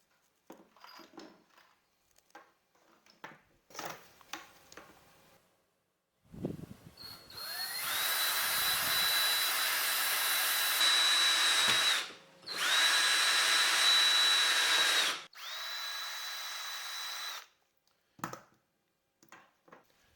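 A power drill bores a hole near the top of an electrical conduit leg for a solar blanket stand, whining loudly in two long bursts with a short pause between, framed by quiet handling clicks before and after.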